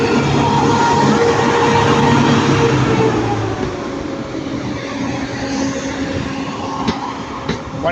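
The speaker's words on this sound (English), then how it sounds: "Avanti West Coast service to Manchester," An Avanti West Coast train bound for Manchester runs through Crewe station, a loud, steady rumble of rolling stock with wheel and rail noise that carries throughout and eases slightly partway through, with a couple of sharp clicks near the end.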